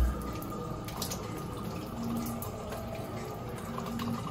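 Water from a push-to-start shower runs in a steady, close wash with faint dripping and splashing, no voices.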